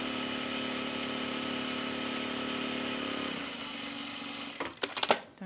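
A sewing machine stitches fabric for a laundry basket, giving a steady, motor-like whir that runs evenly before slowing and ending in a few sharp clicks and knocks.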